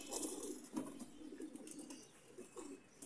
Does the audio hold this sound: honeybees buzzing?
no